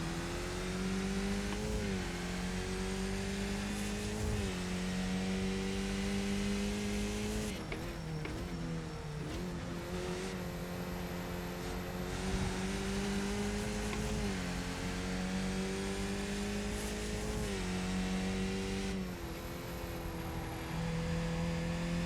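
Small Skippy race car engines in a racing sim, a steady loud drone of revving motors rising and falling in pitch through repeated gear changes, several cars running close together throughout with no talk.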